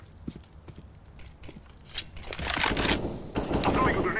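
Gunfire in a Counter-Strike-style multiplayer shooter, with scattered single shots that build into dense, loud bursts of rapid fire and explosions in the last two seconds.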